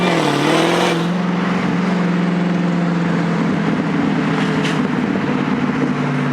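A stock Dodge Demon 170 engine running on E85 revs hard, its pitch sweeping up then holding as a loud, close roar, with a couple of brief sharp pops suggesting backfires.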